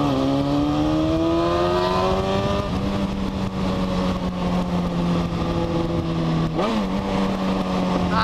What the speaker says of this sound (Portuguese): O vídeo de agora é da acelerada monstra de Hornet